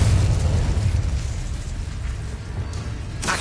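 A Confringo blast spell from the video game Hogwarts Legacy goes off as a loud, dense explosive burst with a heavy low rumble, fading over a few seconds before a sharper crackling pop near the end.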